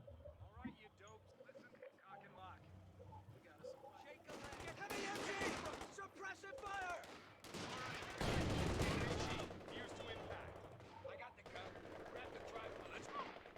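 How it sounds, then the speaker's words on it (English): Enemy machine guns in a strategy battle game rattle in sustained bursts that swell and fade over the clip, with heavier volleys in the middle, while a voice talks throughout. "God, this guy is so good with his MGs."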